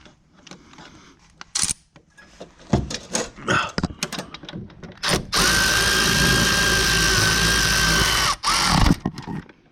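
A power ratchet whirs in bursts, then runs steadily for several seconds, tightening the wheel hub bolts on a 2011 Cadillac DTS during a front hub replacement, with clinks of tools and metal close by and no talking.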